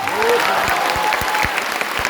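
Loud audience applause in Patna honouring teachers, a dense wash of clapping with a few heavier low thumps and a faint tonal whistle running through it.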